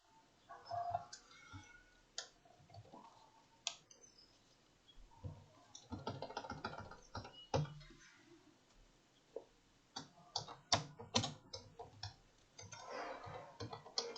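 Someone types code on a computer keyboard in short irregular bursts of close, crisp key clicks with brief pauses between, and no talk.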